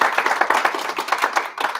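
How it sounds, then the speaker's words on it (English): An audience at a community gathering gives Chris a round of applause, with close, dense clapping holding steady for a couple of seconds. "Can we give Chris another round of applause?"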